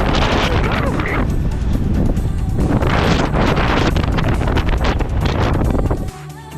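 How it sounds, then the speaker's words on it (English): Strong wind buffets the microphone on a steep trail with a sheer drop-off in a Utah national park, a loud, continuous roaring rush with surging gusts that cuts off abruptly near the end. "The wind is whipping us so hard over here, like you have no idea."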